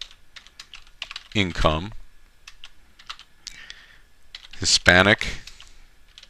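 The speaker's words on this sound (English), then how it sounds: "So what we'll type in this case is median household" Keys clatter on a computer keyboard as a search is typed, light quick clicks in short runs, close by, with a person speaking intermittently over the typing.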